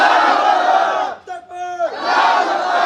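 A large crowd at a religious conference shouts the takbir slogan in loud unison, a roaring chant that breaks off briefly while a single voice calls out, then surges back.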